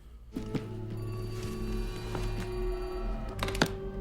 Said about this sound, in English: we don't answer the phone on the Sabbath